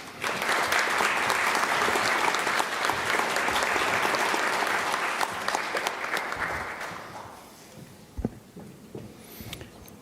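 Sustained audience applause at a Fayette County civics bee regional competition, a dense steady clatter of many hands for about seven seconds before tapering off, leaving a quiet room with a few scattered claps.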